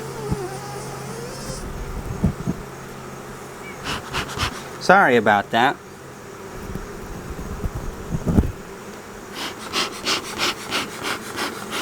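Honey bees buzzing around an opened young nuc hive in August, many close insect whines swelling and fading near the microphone, with a few soft spoken words and handling noises in between.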